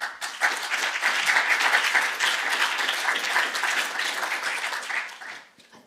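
Audience applause after a keynote talk on responsible AI research, a dense, steady burst of many hands clapping at close range that holds for several seconds before tapering off near the end.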